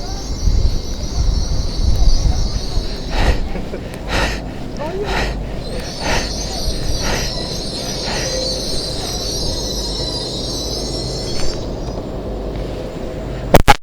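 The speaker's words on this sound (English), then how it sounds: "Now what we're having in is our lner azuma. Our lner azuma service to King's Cross." An LNER Azuma train to King's Cross pulls into Northallerton station, close and loud, with a steady rumble, squealing wheels and a high electric whine through the middle, plus faint breathing or voices nearby.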